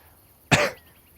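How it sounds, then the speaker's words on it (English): A single short, sharp cough, close and distinct, in an otherwise quiet setting. "Don't you give me that cough."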